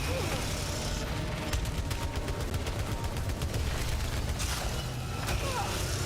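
Rifle fire in the sci-fi shooter Returnal, rapid bursts of gunshots over a dense, noisy game soundscape with booming effects, continuous and fairly loud throughout.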